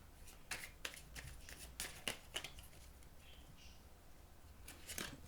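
Playing cards shuffled and handled at close range in a quiet room, with a series of crisp riffles and snaps spread across the clip and softer gaps between them.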